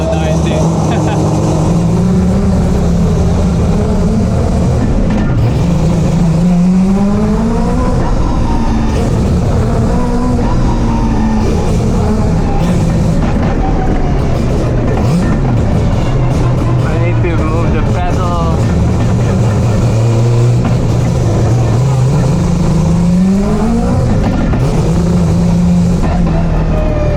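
Loud, rough engine drone from a car with a very soft clutch, rumbling steadily while driving, with pitch rising and falling through gear changes and acceleration; constant and close throughout.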